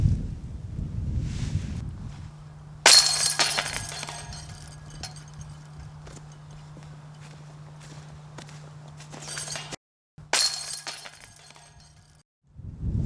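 A disc golf putt strikes the metal basket chains outdoors, producing two close, bright metallic jingling crashes several seconds apart over a low steady hum.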